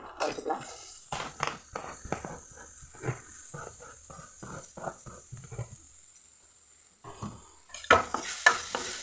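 Grated carrot frying in ghee in a pan for carrot aval payasam, heard as bursts of scraping and stirring over a faint sizzle, with short pauses between strokes.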